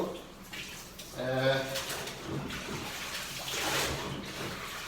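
Water runs and splashes inside a washing machine during a clothes wash, a continuous gushing flow with a brief draining gurgle, heard under a person talking.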